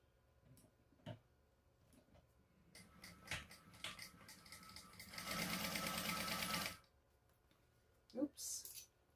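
A hand-cranked sewing machine stitches through a bag, with uneven bursts of mechanical clicking that swell into a dense, louder whirring run near the middle, then fall back to sparse ticks and handling noises.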